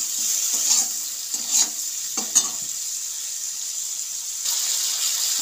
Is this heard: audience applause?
no